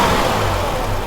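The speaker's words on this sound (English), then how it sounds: "Now I'll snap the throttle again." A Ford Escape engine with a high-idle fault and its idle air control valve disconnected hums steadily and loudly close by, the throttle snapped to lift the revs in a brief rising surge with no voices over it.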